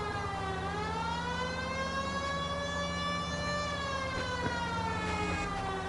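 A wailing police car siren from the video game L.A. Noire sounds loud and steady, its rising and falling tone sustained throughout without pause.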